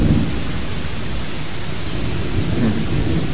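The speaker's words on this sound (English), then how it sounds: "I've got two storms like this." Heavy rain pours steadily during a thunderstorm at Alcudia in Majorca, a dense even hiss with low rumbling thunder rolling underneath, continuous and fairly loud throughout.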